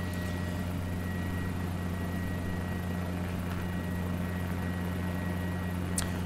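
A Guimbal G2 helicopter in a flight simulator, its rotor and engine giving a steady, loud, unbroken drone with a low hum at a hover, alone throughout.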